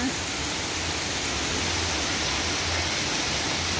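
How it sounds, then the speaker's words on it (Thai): Heavy rain pours down during a storm, a steady, loud, broadband hiss of falling water with no pauses and no voices. "วันนี้มีพายุเข้าเนาะฝนก็ตกตลอดทั้งวันเลย"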